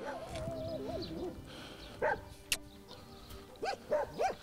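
Several abandoned dogs whimper and yip at a distance in Istanbul's Beykoz district, with a few short barks and whines coming in bursts over a faint background hum.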